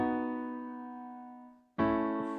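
Harmony underlying the Skeleton Crew music theme, heard as a sustained, rich chord on what sounds like a keyboard. It slowly decays, then a second chord is struck and rings on.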